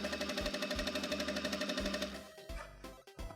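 A sewing machine stitches a new tapered seam along a pair of jeans, its needle pounding in a fast, steady rhythm for about two seconds before slowing into a few uneven bursts and stops, close and loud.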